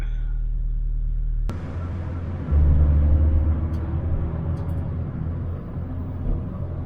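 A home-finished car's engine starts up and runs on a road test, a low steady rumble that swells as it pulls away, staying close and continuous.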